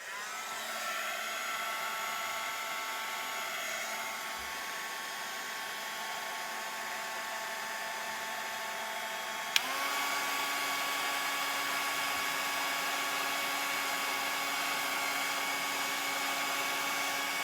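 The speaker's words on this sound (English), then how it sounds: "I'm going to get the heat gun, and I'm going to get ready," A heat gun blows hot air over embossing powder, a steady close whirring roar with a tonal whine that shifts pitch sharply midway and continues unbroken.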